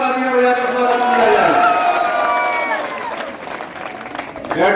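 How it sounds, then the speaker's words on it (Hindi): Dense applause from a crowd at an election rally in Bhind, steady and fairly loud, with a speaker's voice carrying over the clapping throughout. "उनके लिए भी जोरदार तालियां बजाकर स्वागत किया"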